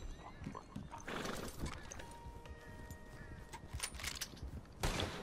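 A horse in the Red Dead Redemption 2 video game whinnies and its hooves clip-clop at moderate distance, while faint gunshots and scattered game noise sit in the background.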